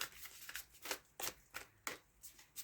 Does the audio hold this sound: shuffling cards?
yes